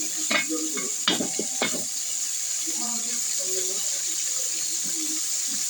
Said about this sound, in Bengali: মাছের মাথাটা দিয়ে দিলাম, এগুলো হালকা একটু কষিয়ে নেব।